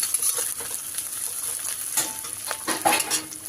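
Onions fry in a pan with a steady close sizzle, broken by occasional scrapes and light clinks of stirring that grow busier toward the end.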